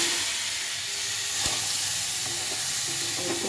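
Fried vegetables tipped into a hot tempering of green chillies for a bottle gourd greens chorchori, giving a steady broad sizzle with a brief stirring clatter, loud and close with no talk.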